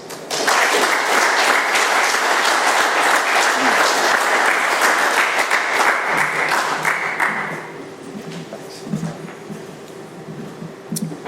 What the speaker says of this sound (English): Let's have another round of applause for Mark.